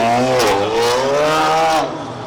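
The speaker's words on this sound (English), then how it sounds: "you've got loud cars like that" A loud car engine revs hard at a car show, its pitch sweeping up and down before easing off, close and dominant.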